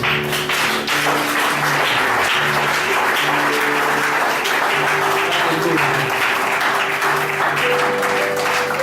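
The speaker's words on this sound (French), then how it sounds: "Acclame Jésus" Church congregation applauding loudly and continuously during a French-language service, a dense close wash of clapping with voices and tonal sound running underneath throughout.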